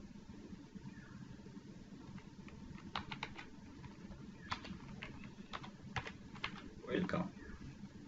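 Computer keyboard typing while HTML code is written, arriving as scattered clusters of quick keystrokes over a steady low background hum, with a louder flurry near the end.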